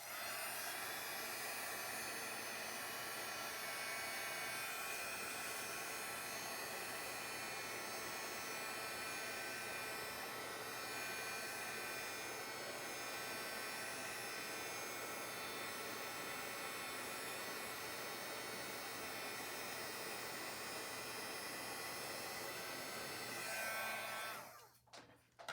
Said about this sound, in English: Let's hit it with the heat tool.